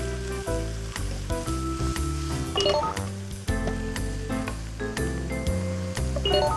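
Glass noodles, napa cabbage and morning glory sizzle steadily in a hot pan for Thai dry sukiyaki, a continuous frying hiss under prominent backing music with no talking.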